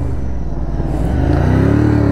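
A nearby Ducati motorcycle engine growls and revs, its pitch rising steadily into a louder, throaty roar with no talking.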